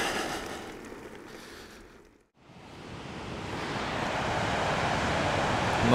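Ocean surf and wind at the shore, a broad roaring wash that fades to a brief lull and then swells back louder and steady, with no voices.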